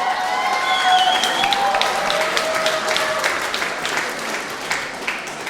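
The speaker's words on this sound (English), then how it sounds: "Round of applause for every candidate." Applause for student union election candidates at a results announcement, a dense round of clapping from a crowd that peaks early, then tapers with scattered claps and faint whistles.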